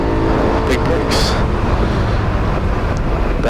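A BMW E92 M3 engine drones loudly and steadily on the track at Barber Motorsports Park, heard from inside the car, with its pitch shifting slightly as the throttle lifts and returns, and a voice faint beneath it.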